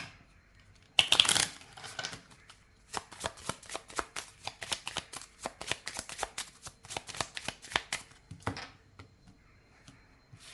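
Lenormand fortune-telling cards are shuffled up close in a quick, dense run of crisp riffling and slapping, a loud burst first, then steady rapid flicks that end with a final snap.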